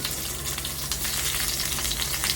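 Tomatoes and green chillies fry in hot oil in a pan for a Telugu tomato pachadi, giving a steady, close, dense sizzle with no voices.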